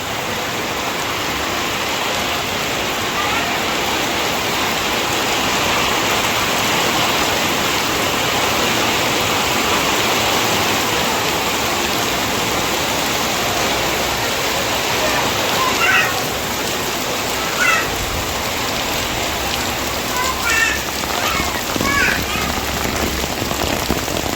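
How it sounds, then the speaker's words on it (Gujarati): Heavy rain pours down in a dense, loud, continuous roar of drops hitting surfaces, steady throughout, with a few faint voices surfacing briefly near the end beneath the downpour. "એવો વરસાદ છે માહોલ છે"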